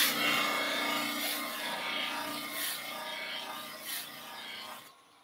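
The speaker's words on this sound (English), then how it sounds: "So we can go with the white mop that we've used to polish the wood with." A white polishing mop with compound buffs a plastic piece turning on a woodturning lathe, giving a close, steady rubbing whir with rhythmic swells, then cutting off near the end.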